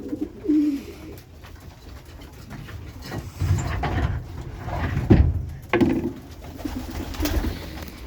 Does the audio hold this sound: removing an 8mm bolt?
no